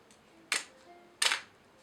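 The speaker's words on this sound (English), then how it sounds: "Now I'm going to move it down to f16. Now listen to the shutter speed." A Nikon F5 film SLR shutter fires twice at a slow speed, two crisp mechanical clicks spaced well apart in a quiet room, each with a short rattling tail.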